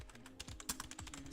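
Rapid clicking of computer keyboard keys, a quick irregular burst of close keystrokes over about a second and a half, fairly quiet.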